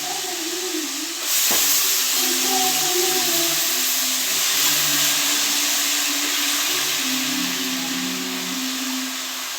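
Chopped bottle gourd tipped into a hot pan of half-cooked tomatoes sets off a sudden loud hiss of steam and sizzling that holds steady and close, with faint tonal sounds from the room behind it.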